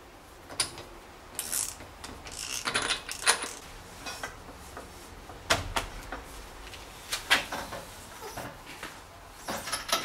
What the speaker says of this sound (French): je viens resserrer l'écrou du moyeu